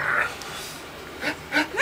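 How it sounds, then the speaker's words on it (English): Puppies give faint, short whimpers and yips, a soft cry at the start and a few quick squeaks near the end over quiet background. "Watch out with the dogs."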